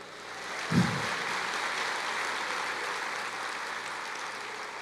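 A church congregation claps for the Lord during a sermon, a steady, even wash of applause filling the space after a brief low thump, continuing without talk throughout.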